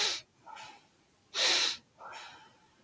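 Several forceful breaths drawn in and pushed out through the nose in a quick connected rhythm, close and alone, with short pauses between the strong hissing bursts, during a guided breathing exercise at a spring equinox celebration.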